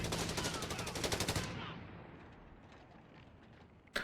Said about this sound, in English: We have zeroing artillery coming in.